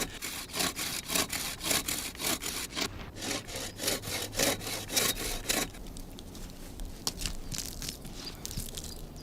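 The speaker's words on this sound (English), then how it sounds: "In the meantime, Ludwig Lauscher has begun sawing the willow trunk into individual pieces of wood for the rake teeth." A hand saw cuts through a willow trunk in steady rhythmic strokes, loud and close, then the strokes grow fainter and sparser.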